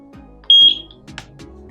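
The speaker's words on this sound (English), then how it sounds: "Press and hold the sync button for 2 seconds until you hear a beep and the LED is flashing blue." A Eufy SoloCam S40 solar-powered security camera gives one short, loud, high-pitched sync beep, followed by a few faint soft clicks.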